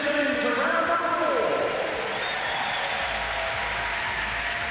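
A large crowd at the London Aquatics Centre claps steadily through a men's 10m platform diving final, a dense, continuous wash of applause filling the hall, with voices faintly mixed in.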